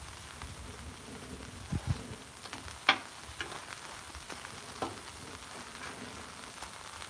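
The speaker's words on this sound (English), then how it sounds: "Look at it sizzling. That's amazing." Faint, steady crackling sizzle of cheese on a Blackstone flat top griddle, with a few soft taps and clicks over a quiet background.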